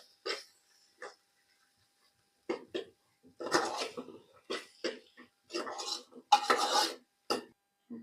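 Bhopatri greens being stirred in a pan with chili powder and coriander-cumin powder: close, irregular bursts of scraping and rustling separated by short pauses, louder and denser toward the end.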